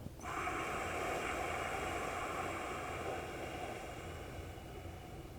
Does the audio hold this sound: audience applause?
no